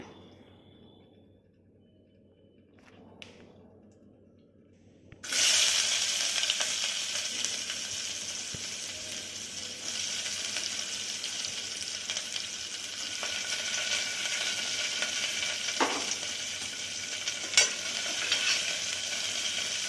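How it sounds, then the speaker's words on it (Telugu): Chopped onion drops into hot oil or ghee in a pan and erupts into a loud, steady sizzle of frying that carries on unbroken for about fifteen seconds, after a quieter lead-in. "తర్వాత ఆయిల్ వేడెక్కాక ఆనియన్ వేసుకోవాలి"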